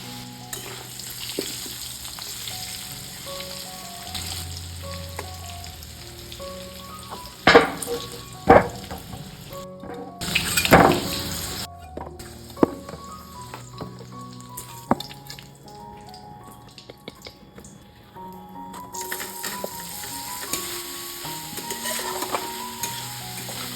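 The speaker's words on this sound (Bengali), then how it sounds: "আলুগুলো লাল লাল করে একদম ভেজে নেবো।" Potatoes frying in mustard oil with turmeric over a low gas flame, a long steady sizzle with occasional loud clanks and scrapes of a spatula against the pan, close by and without talking.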